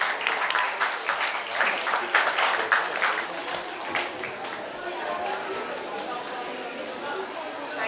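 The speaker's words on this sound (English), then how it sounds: "Can we have a round of applause," Audience applause at a book launch for an eight-year-old author's book, a dense and sustained clapping that runs for several seconds and gradually thins, with voices mixed into the crowd noise.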